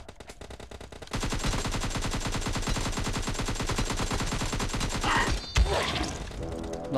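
Gunfire in PUBG Mobile zombie mode, a long sustained rapid automatic burst starting abruptly and running several seconds, loud and close, ending with a heavy impact.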